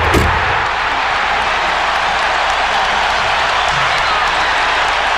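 The arena crowd at a 1998 Bulls–Pacers Eastern Conference Finals Game 7 roars in a loud, continuous wash of cheering and applause, with a brief thud at the very start and faint commentary buried beneath.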